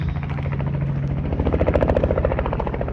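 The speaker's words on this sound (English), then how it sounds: "And there's a helicopter in the middle of the outback." Rapid rotor blade chopping from a helicopter in the Australian outback grows louder and closer partway through, with a constant mechanical whine underneath.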